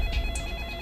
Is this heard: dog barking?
no